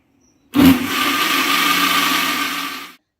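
A kitchen mixer grinder whirs to life abruptly, grinding a watery dosa-style batter with a loud, continuous drone for about two and a half seconds before stopping.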